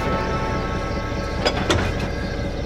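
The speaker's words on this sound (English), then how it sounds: "BoCo strained away with the heavy goods train." A diesel locomotive in the Trainz simulator hauls a heavy goods train, a steady loud rumble of engine and rolling wagons with a couple of brief metallic clanks partway through.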